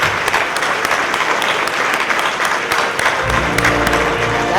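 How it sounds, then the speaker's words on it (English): Crowd at the 2018 Florida Inventors Hall of Fame ceremony applauding a group of inventors, sustained loud clapping throughout, with a brief hum of voices or music entering near the end. "let's hear another round of applause for another outstanding group of innovators"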